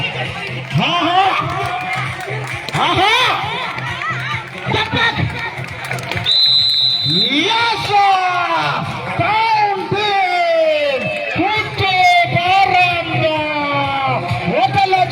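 A loud, dense crowd roars, whoops and shouts at a football match between Townteam Kuthuparamb and Ebil Parambai, with a steady wall of voices and chanting-like rises and a brief whistle tone partway through.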